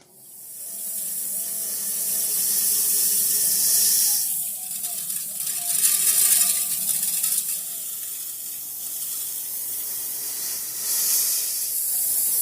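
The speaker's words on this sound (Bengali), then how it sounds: "এবার এই ধানের জল দিয়ে দেব" Water poured over paddy grain in a village vessel for soaking, a loud, steady hissing rush that runs almost unbroken, swelling and easing slightly throughout.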